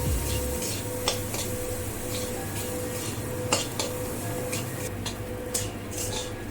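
A spoon stirs turmeric, cumin powder and moong dal in a metal cooking pan, with soft scraping and occasional clinks over a steady background hiss, quiet and continuous.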